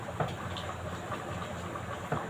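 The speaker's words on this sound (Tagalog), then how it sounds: "Ayan guys, kulong-kulo na siya." Pig trotters simmer at a rolling boil in sweet rice black vinegar, a steady close bubbling hiss with soft pops, continuous and alone without any voice.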